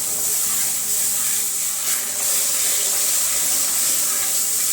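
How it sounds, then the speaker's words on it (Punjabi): Continuous hissing and sizzling as water is poured little by little into flour roasted in ghee in a hot pan, steady and fairly loud throughout, with no voices. "ਪਾਣੀ ਆਪਾਂ ਥੋੜਾ ਥੋੜਾ ਕਰਕੇ ਪਾਵਾਂਗੇ"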